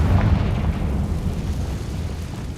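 A Confringo blasting curse erupts in Hogwarts Legacy, a deep, loud booming explosion that hits at once and rumbles away over a couple of seconds, heard alone.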